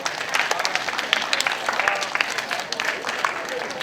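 An audience at a high school special lecture by a food influencer breaks into sustained applause, a dense wash of many hands clapping steadily, while a voice speaks over it.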